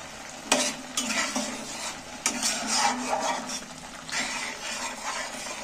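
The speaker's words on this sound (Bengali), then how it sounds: "এবার একটু আলুগুলোর সাথে একটু নেড়ে চেড়ে নেব।" Potato pieces get stirred through spicy masala in a pan, with scraping spoon strokes and a couple of sharp clanks against the metal over a low background sizzle.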